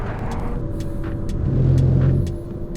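An Alpine A290 front-wheel-drive hot hatch runs over track kerbs on a circuit, its engine droning close under a steady rumble with a brief rising buzz from the kerbs midway.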